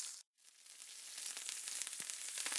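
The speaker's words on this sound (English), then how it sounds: "it's sizzling nicely at the moment" A pork chop and onions sizzle in a hot pan, a bright crackling hiss that cuts out briefly, then returns and builds steadily.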